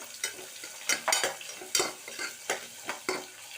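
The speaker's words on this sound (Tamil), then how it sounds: "குக்கரில் ரீஃபைண்ட் ஆயில் போட்டு கடுகு வெடிச்சுட்டுருக்கு" Mustard seeds splutter and pop in hot refined oil inside a pressure cooker, a string of sharp, crackling bursts over a low sizzle, loud and close, with no voices.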